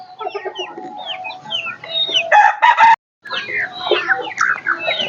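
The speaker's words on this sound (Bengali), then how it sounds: "দর্শক স্ক্রিনে যে মুরগিগুলো দেখতে পাচ্ছেন মুরগিগুলো মালয়েশিয়ান শর্ট সেরেমা" Malaysian short Serema chickens, eight to nine months old, cluck and chatter at a farm in Ullapara, Sirajganj, with a close, loud rooster crow in the middle, a brief silent gap, then more busy clucking.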